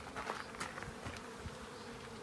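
Honeybees buzz around five hives in an apiary, a faint steady drone with a few closer passes.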